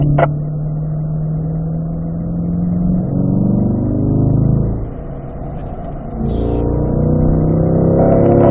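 Race car engine on a track during a PDR 4956 session, a loud close drone that drops away as the driver brakes and downshifts into a corner, then climbs again on acceleration out, with no talk.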